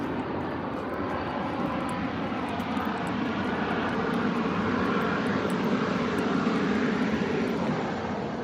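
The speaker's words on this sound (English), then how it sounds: "plane is coming." A propeller airplane passes overhead, a steady droning engine hum that swells slightly toward the middle and stays moderately distant throughout, with no talking.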